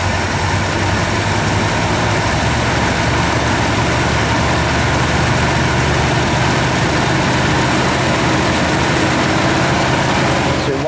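A 1967 Chrysler Town & Country station wagon engine runs steadily at a smooth idle, a continuous low rumble that stays at an even level from start to finish with no talk over it.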